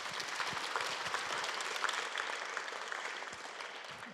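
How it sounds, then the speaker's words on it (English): Steady, moderately distant applause from an audience at a debate event continues evenly throughout, a dense wash of clapping with no talk over it. "Round of applause."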